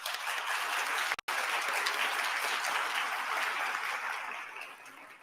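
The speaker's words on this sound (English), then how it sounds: "give another round of applause" Sustained applause from an audience at a national youth celebration on reconciliation in Canada, broad and even with a brief dropout near the start, then tapering off at the end, no talking.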